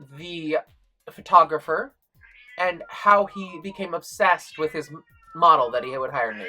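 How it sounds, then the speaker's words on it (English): A cat meows and whines repeatedly at close range, drawn-out cries coming in short bursts while someone talks over them. "Please excuse my cat."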